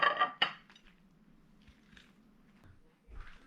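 Zucchini spaghetti being plated: two sharp clinks of dishes and cutlery at the start, then soft scraping and light tapping, with a dull knock near the end.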